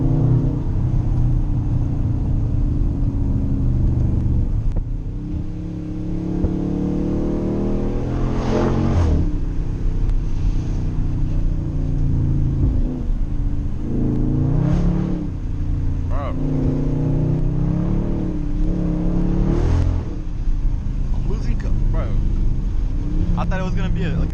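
A loud Dodge Charger on backroads revs hard to high RPM in repeated surges, its engine roaring up and dropping back, heard from inside the car with a person talking over it.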